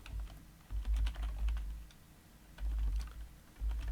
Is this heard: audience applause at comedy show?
no